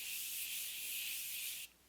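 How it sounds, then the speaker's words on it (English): A Morphe Continuous Setting Mist setting spray hisses in one long, close, even burst for about a second and a half, then cuts off abruptly. "I'm gonna take the Morphe Continuous Setting Mist and just set the face with this"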